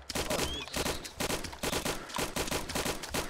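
Rapid automatic gunfire from the combat video game ArmA 2 ACE, repeated sharp bursts in quick rhythmic succession, fairly close and loud, with no voices.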